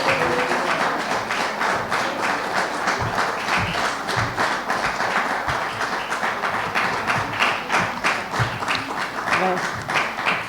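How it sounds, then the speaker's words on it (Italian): A lecture audience applauds at the end of an art history lesson, giving a dense, steady patter of many hands clapping for about ten seconds, loud and continuous, with no break in between. "Applauso eloquente"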